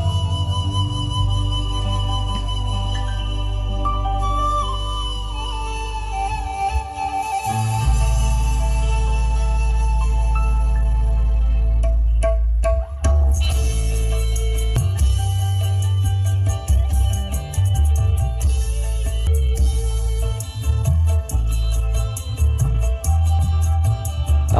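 A Polytron Passpro 15F7 portable 15-inch speaker with XPR bass plays a loud, continuous music test track, with heavy, steady low end and a brief drop in the middle.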